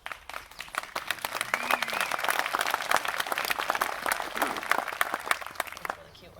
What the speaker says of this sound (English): When the little kids clap for me too.